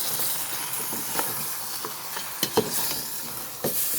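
Pork paksiw is stirred in a pan before the vinegar goes in, a soft steady hiss of cooking broken by faint scraping strokes and a few sharp clinks of the utensil against the pan.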